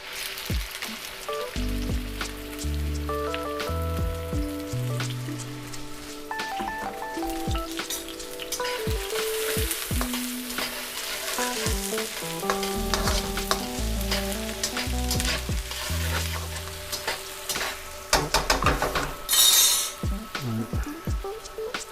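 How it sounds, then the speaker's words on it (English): Vegetables sizzle and crackle in a hot wok for shrimp fried rice, a steady close frying hiss with bursts of tossing and scraping, loud and continuous with no voices. "So I'm going to go on with my vegetables first."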